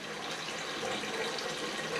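Water pours steadily into a pot to make jambalaya stock, a continuous gushing splash at moderate level from start to finish with no talking.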